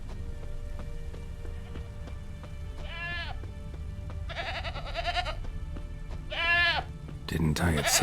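A goat tied to a stake as forktail bait in The Witcher 3: Wild Hunt bleats three times, with wavering cries spaced a couple of seconds apart over a steady rain-like ambience.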